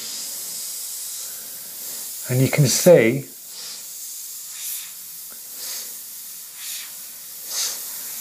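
A soft, steady airbrush hiss runs throughout, with faint spurts of spray; a person speaks briefly near the start.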